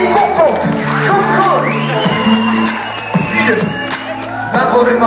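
Lively crowd at an RnB and soul music event cheering, whooping and shouting for a DJ, loud and close in repeated bursts over a thumping beat, with an announcer's voice on top.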